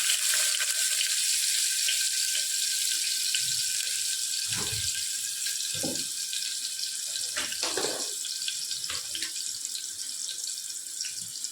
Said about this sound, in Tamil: வெங்காயம் ஃபுல்லாக பொரியட்டும்